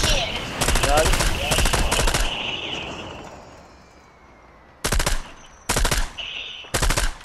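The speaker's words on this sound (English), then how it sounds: "I think we should go up here and start shooting from up here." Automatic gunfire in the video game Fortnite, with rapid bursts of loud shots early on and several short separate volleys later, mixed with game sounds and some speech.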